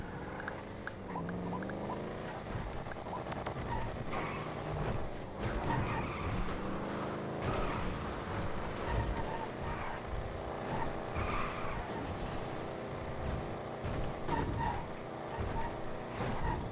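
A car in the GTA V video game drives through city streets, engine droning steadily with shifting pitch, occasional tire and brake noises, and traffic sounds around it for the whole stretch.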